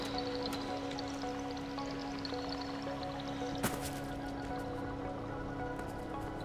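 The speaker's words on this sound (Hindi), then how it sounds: "उसको पानी पी रही है भाई।" A cat in the video game Stray laps water, soft wet drips and squishy licks repeating quietly over a steady low background hum, with one sharper splash midway; no talk.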